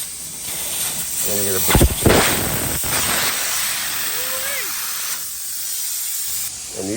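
Compressed air hisses loudly and steadily from a semi-truck tire with its Schrader valve core removed. The strong, continuous rush is broken by clanks of handling, and someone speaks briefly over it.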